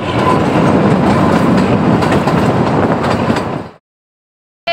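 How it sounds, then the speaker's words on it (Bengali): Kalka-Shimla toy train standing at the station before departure, with a loud, steady broadband rumble of engine and carriage noise that cuts off abruptly near the end. "টয় ট্রেনে উঠে পড়েছি আমরা। ট্রেনটা এখনো ছাড়েনি"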